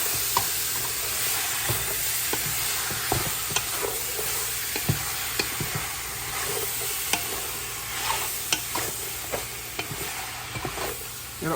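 Brown stew chicken is stirred in a pot, a continuous hiss of sizzling with repeated scraping and clinking strokes from the spoon, close and steady with no voices.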